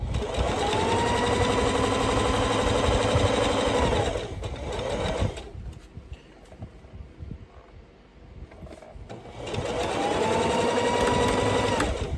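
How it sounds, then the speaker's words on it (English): Sewing machine back stitching over elastic on a fabric face mask with interfacing: a steady, close whir for several seconds, a quiet pause with light handling, then the motor runs again. "back stitching over the elastic"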